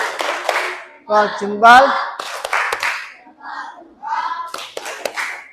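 Children in a classroom clap a rhythmic group cheer, with bursts of hand claps between and under chanted voices and a teacher's talk.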